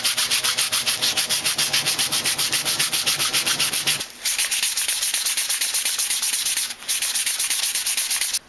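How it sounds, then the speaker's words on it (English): Steady rhythmic rubbing of sandpaper on a wooden chisel handle, quick back-and-forth strokes close up, with two brief pauses and no talking. "Just about done filing, about to go to sanding."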